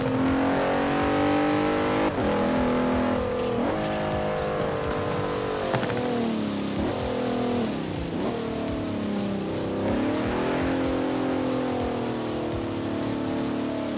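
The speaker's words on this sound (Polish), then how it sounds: "ale też BMW M2 fajnie brzmi w tej grze." BMW M2 engine revving in the video game Forza Horizon 4, a loud continuous engine note that climbs and drops through repeated gear shifts, with tires squealing and no voices over it.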